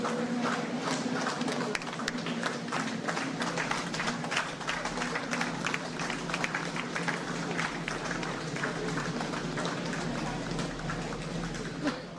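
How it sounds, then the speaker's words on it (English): A crowd applauds with a standing ovation at a peace advocacy gathering in Nigeria, dense steady clapping that holds fairly loud and even for about twelve seconds without any clear talk. "Please, with a round of applause and standing ovation, let's welcome him to this side of the speech."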